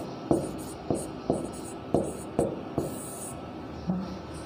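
Pen or marker strokes while writing out a fraction answer, a series of soft scratchy taps at a steady, uneven rhythm over a faint hiss, close by and with no speech.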